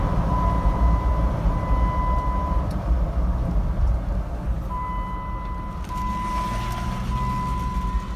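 A high-mileage 2012 Jeep Wrangler Sahara with the 3.6 Pentastar engine drives along with a steady low engine and road rumble, while a thin, intermittent electronic tone sounds on and off above it.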